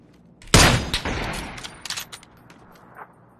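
Video game gunfire erupts in a loud burst of shots, followed by several scattered sharper reports that fade into quieter, distant pops over a few seconds.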